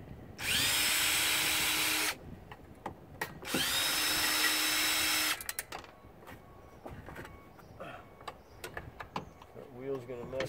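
Power drill backing screws out of an electric snow thrower during a teardown, two sustained whirring bursts of about two and four seconds, close and loud, followed by quieter handling clatter and brief talk.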